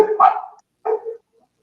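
Dogs barking indoors at home, two short bursts of barks with a brief gap between them, fairly close and loud.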